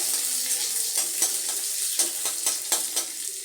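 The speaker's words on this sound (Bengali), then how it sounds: "পেঁয়াজটা আমি একটুখানি ভেজে নেব" Sliced onion fries in hot oil with dried red chillies for a Bengali pumpkin fry, giving a close, steady sizzle broken by repeated stirring scrapes and clinks.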